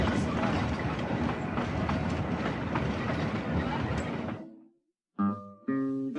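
Colorado narrow gauge train running on rails, a loud broadband rumble with faint clicking that fades out after about four seconds, followed by other tonal sounds.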